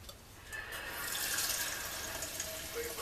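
Water is poured into a cast iron pot for cleaning: a soft, steady splashing pour that swells after a quiet start and runs continuously, fairly faint and close.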